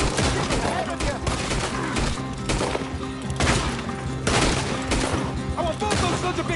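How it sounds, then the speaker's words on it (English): A gunfight in Red Dead Redemption 2, with dense, continuous volleys of gunshots cracking close by throughout, shouting voices mixed in among the shots. "Hey, careful who you're shooting at."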